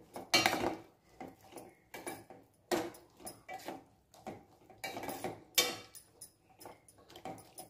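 A soya tomato curry with cumin, coriander and pepper powder being stirred in a pan, a spoon scraping and clinking against metal in irregular close strokes, no talk.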